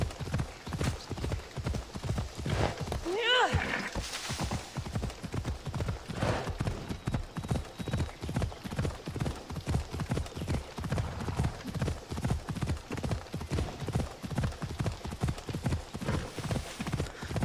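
Horse hooves clip-clop at a steady trot in an ancient Greece video game, close rhythmic thuds running continuously, with a brief whinny early on and faint game ambience.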